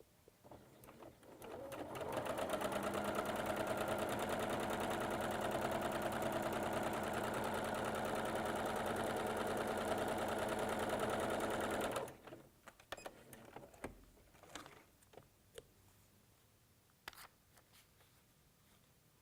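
A sewing machine runs steadily for about ten seconds, stitching fabric string strips onto a quilt block, then stops, leaving quiet handling and fabric rustling.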